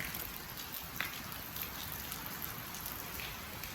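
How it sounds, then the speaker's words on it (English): Steady rain falling, a continuous soft hiss with occasional louder drips, close by and without voices. "it started raining."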